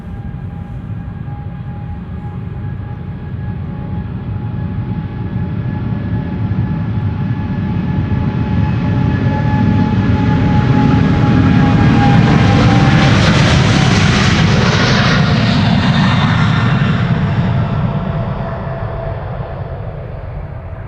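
A KLM Boeing 777-200ER jet at Schiphol Airport passes close by with a loud, broad engine roar that swells over about twenty seconds, then fades slightly, with a descending whine as it goes.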